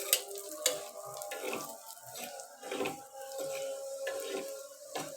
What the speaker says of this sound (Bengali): এভাবে সম্পূর্ণটা ভালোভাবে তেলে ভেজে নেব